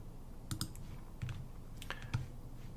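A few soft key clicks from a computer keyboard, tapped in short bursts against a quiet room hum with no voices.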